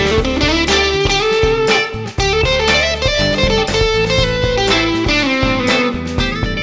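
A Telecaster electric guitar with both pickups engaged and its built-in boost turned all the way down plays a busy, loud run of chords and notes, slightly driven, with no talking over it.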